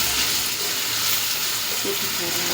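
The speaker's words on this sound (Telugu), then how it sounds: "ఒక 2 మినిట్స్ ఇలానే ఆయిల్లో వేయించేస్తున్నానండి." Ivy gourd pieces frying in hot oil for a gravy curry, giving a steady, close sizzle with soft crackling and bubbling throughout, and no voices over it.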